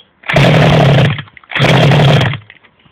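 Two long pull-start attempts on a Shengqi Hummer engine with the choke on, each a loud, close, raspy whir lasting under a second, separated by a brief pause, without the engine catching.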